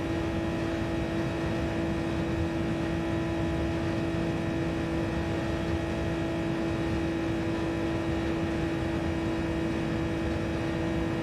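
A car engine in Gran Turismo 7 holds steady at high revs with no breaks, a loud, constant droning tone that stays alone without talk.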